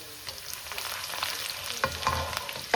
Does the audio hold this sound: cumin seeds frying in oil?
yes